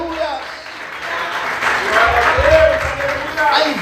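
A church congregation applauding during a Portuguese-language sermon, loud continuous clapping filling the space with crowd voices and shouts mixed in.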